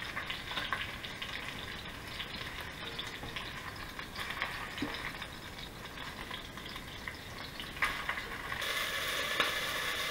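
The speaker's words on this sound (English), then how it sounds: "get a good sear on all sides of the meat" Oxtail and beef cubes sear in a hot pan, a steady crackling sizzle with dense popping and occasional sharper clicks, close and continuous throughout.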